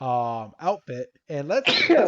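A person sneezes once, a sharp, close burst right after a stretch of casual speech, with someone talking beforehand.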